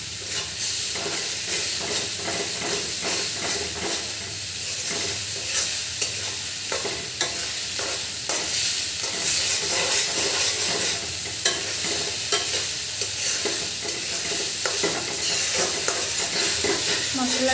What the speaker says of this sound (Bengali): আমি ভাজা ভাজা করে নিচ্ছি কারণ মশলাটা যত কষানো হবে